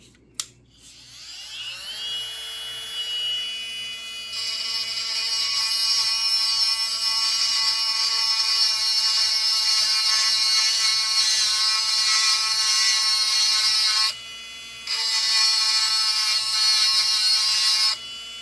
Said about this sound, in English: I'll turn this guy on.